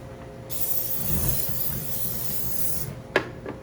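Cooking spray hisses onto filet mignon in a steady burst lasting about two and a half seconds, followed by a sharp click as the can is set down.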